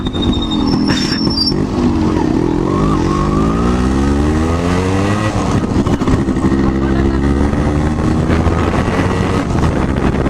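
A motorcycle engine drones loudly and close by, its pitch rising and falling as the throttle changes, with wind buffeting the microphone.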